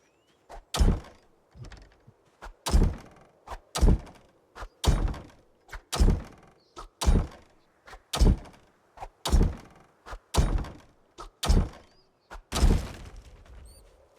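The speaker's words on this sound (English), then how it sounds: "Bang it with a hammer." Hammer blows banging apart a radio in a survival video game, a steady series of about fifteen loud, heavy thunks at roughly one-second intervals, each hit sharp and close with no talking.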